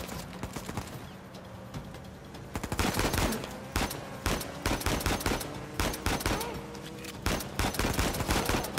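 Heavy, sustained gunfire during a chase in Uncharted 4: A Thief's End, with dense volleys of close, loud shots cracking in quick succession and only short pauses between bursts.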